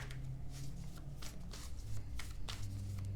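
A deck of tarot cards is shuffled by hand during a Pisces reading, giving soft repeated riffling and papery flicks in quick bursts, close and fairly quiet, alone without voices.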